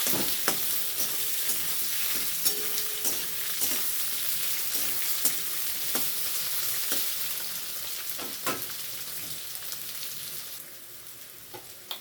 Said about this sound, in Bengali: সিদ্ধ করে রাখা আলু দিয়ে দিলাম, আলুটা ভেজে নেবো ভালো করে।